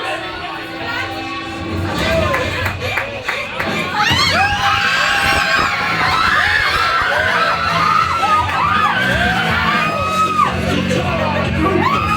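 Theme park ride passengers on Guardians of the Galaxy: Monsters After Dark yell and scream together in a dense, loud crowd din, with whoops and shouts rising over a rumbling ride mechanism.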